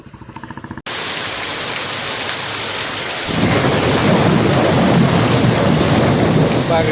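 Heavy rain pours down steadily over a rumbling thunderstorm, a broad roaring wash that swells louder partway through and continues unbroken.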